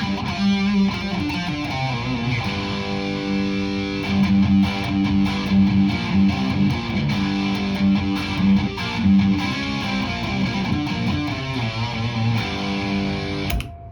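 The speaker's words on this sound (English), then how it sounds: "And now the distortion." Electric guitar through an MXR distortion pedal, playing a continuous run of heavily saturated chords and notes at steady volume, close and alone with no talking, ending abruptly.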